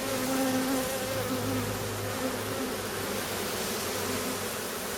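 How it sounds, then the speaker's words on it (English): Honeybees swarm densely over mite-treatment strips inside an open hive, a loud, close, continuous buzzing drone with layered wingbeat tones rising and falling, and no voices. "they are completely covered in bees"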